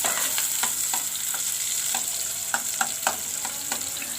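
Chopped onions fry in a hot pan with a constant bright sizzle, punctuated by scattered crackles and pops from stirring, close and steady with no talking.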